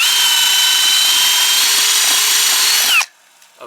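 A power drill whirs steadily at high speed for about three seconds, then stops abruptly, leaving near silence.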